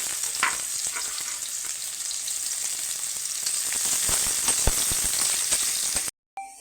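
Onions sizzle and crackle steadily in hot oil in a wok, a dense, close frying hiss that runs without a break, with small pops and stirring clicks, then cuts off abruptly near the end.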